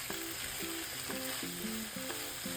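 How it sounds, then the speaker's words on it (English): Boiled pasta and bell peppers sauté with garlic in a pan for white sauce pasta, giving a constant soft hiss. A simple stepped melody of tones plays over the sizzle throughout. "Then add boiled pasta and saute for 1 to 2 minutes only."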